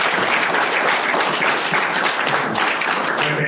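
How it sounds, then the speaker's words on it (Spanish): Studio audience applause for a flamenco singer on a music-industry talk show, a dense, steady wash of clapping holding loud and even throughout with no speech over it. "Un aplauso, ¿no?"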